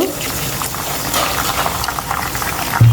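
Water poured into a wok of browned frying onions and spices, making a close, bubbling hiss and gushing sizzle throughout, with a short thump near the end.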